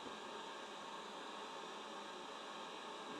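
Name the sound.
vacuum cleaner running in the background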